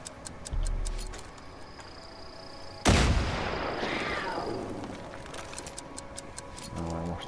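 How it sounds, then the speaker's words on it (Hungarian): Car blown up with gunfire in the video game Far Cry 5: a sudden loud blast cracks out and rumbles into a long fading roar of debris and fire, with faint clicks and shots before and after. "Ezt fel kell viszont robbantanunk ezt a kocsit."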